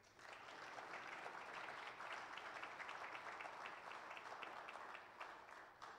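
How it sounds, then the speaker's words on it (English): Church congregation at a Methodist service applauding steadily for several seconds, a dense even patter of many hands at moderate distance with no talk over it. "may I ask that we give them a round of applause"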